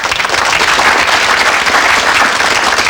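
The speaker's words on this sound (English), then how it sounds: "Let's give him a nice big round of applause" A studio audience at a 1970s London comedy sketch show applauds a contestant from Liverpool, with loud, dense and steady clapping throughout and no voices.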